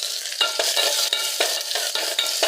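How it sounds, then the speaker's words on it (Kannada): Garlic fries steadily in a pan for a Karnataka toor dal bassaru, a close, continuous sizzle broken by repeated stirring scrapes, with no voices. "ನೆಕ್ಸ್ಟ್ ಬೆಳ್ಳುಳ್ಳಿ ಸ್ವಲ್ಪ ಫ್ರೈ ಮಾಡೋಣ."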